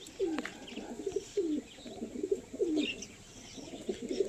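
Harikuti line pigeons coo in a home loft, a series of soft rolling low coos repeating every second or so, close by, with faint chirps and wing flutters in the background and no talking.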